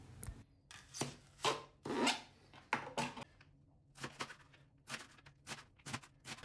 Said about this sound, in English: One tip is to cut the leek lengthwise before chopping.